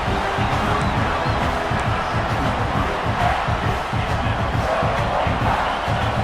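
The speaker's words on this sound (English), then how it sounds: "this big crowd doing everything possible to inspire this defense down here near the goal line" Roar of a big stadium crowd in a college football video game, Ole Miss against South Carolina near the goal line, a constant dense rumble with rhythmic chant-like pulses, fairly loud and unbroken, with no talking.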